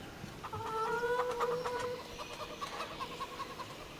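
Farmyard chickens in the Farming Simulator 25 video game cluck and squawk over a low, steady background hiss, with a brief rising call in the middle and no speech.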